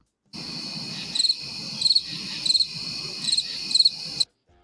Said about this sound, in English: Crickets, man.